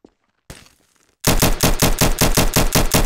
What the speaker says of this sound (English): Oh no, is this you shooting at me?